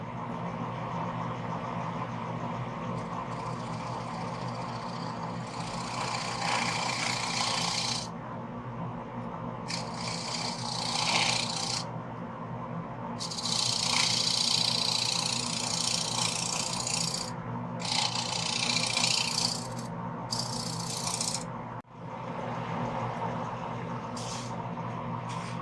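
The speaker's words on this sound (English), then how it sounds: "To smooth the bottom, I use a 1-inch square end scraper ground with a slight radius, so I can scrape a flat or nearly flat surface without digging in" A 1-inch square end scraper ground with a slight radius works across the flat bottom of a turned live-edge wooden bowl, a steady rasping scrape running continuously in bursts with brief pauses, close and fairly loud.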